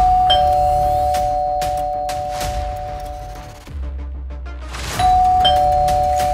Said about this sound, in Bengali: এখন একটা কলিং বেল বাজবে।